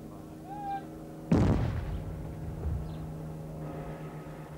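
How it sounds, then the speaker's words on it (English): Controlled detonation of suspected bomb bags by bomb disposal men in Ulster in 1974: a single loud, distant-sounding boom that breaks a quiet outdoor hush and rolls off in a long, low rumble. "if there's a rumbling boom, that'll mean the bags did contain explosive"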